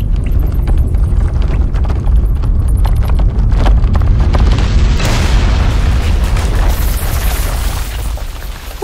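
A loud cartoon explosion in an animated film about a baby rock deep inside the Earth: a continuous rumbling roar with heavy low booms, rising to a bright crackling blast near the end, with no talk over it.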